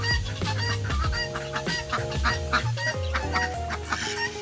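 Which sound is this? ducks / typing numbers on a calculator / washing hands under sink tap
ducks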